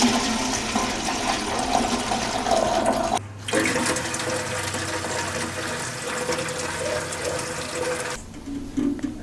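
Liquid runoff from a worm bin is diluted with water and poured for an indoor orange tree, a steady close splashing and gushing that stops abruptly for a beat, then resumes before fading near the end.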